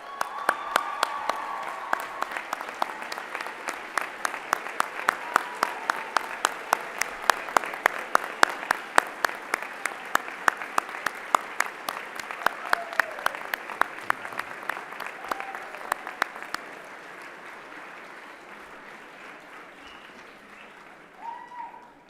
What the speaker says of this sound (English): please express that approval and belief through standing and applauding each precious member of this class